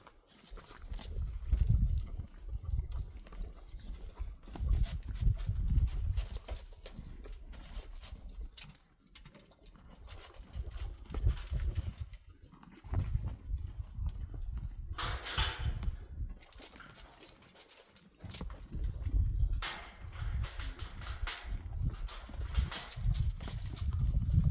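Horses on a farm walking with irregular hoof clops and shuffling close by, under a continuous low rumble that dips briefly twice, with faint bird calls at times.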